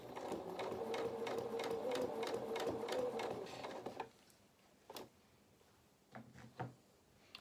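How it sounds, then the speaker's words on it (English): A sewing machine stitches through bulky fabric on a small cat's head, a rapid rhythmic thumping for about four seconds that strains near the end, followed by a few isolated clicks and taps. "you can hear my machine struggling"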